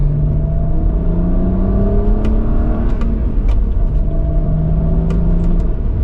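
A 2009 BMW 135i with a manual gearbox accelerates hard, its engine note droning loud and close and climbing steadily in pitch over several seconds, with a brief dip around a gear change.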